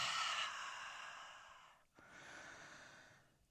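One long, close breath is let out during a qigong stretch, a soft airy whoosh that fades, followed by a short pause and a second gentler breath.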